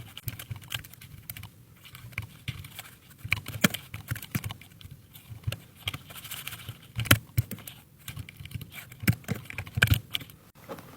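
Names being typed on a computer keyboard while working in Microsoft Word 2013: a quiet, irregular patter of keystrokes with small bursts and pauses, heard alone without speech.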